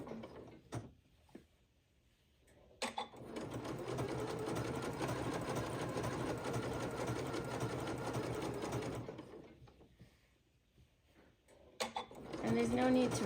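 A domestic sewing machine running a stretch stitch on knit fabric for a bra, a steady mechanical whirring that lasts several seconds with faint handling clicks before and after, close and moderately quiet.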